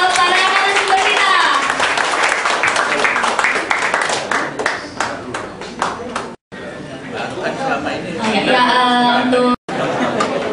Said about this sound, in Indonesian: Mari kita berikan aplaus kepada para narasumber kita.